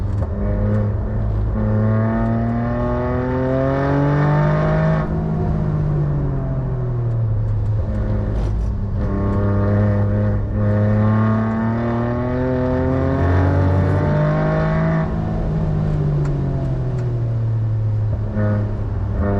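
A Toyota Yaris GR lapping the slippery Nürburgring track: loud in-car engine drone rising and falling through gear changes and revs, steady and close, with no talk.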